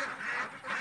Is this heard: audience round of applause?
no